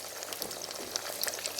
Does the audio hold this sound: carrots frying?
yes